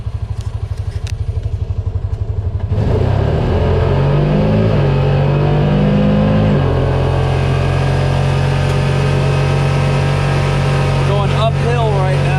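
A Honda Pioneer 700 side-by-side idles with a low, even putter, then accelerates hard from a stop, its engine note climbing loud and close before settling into a steady drone. A voice speaks briefly over it.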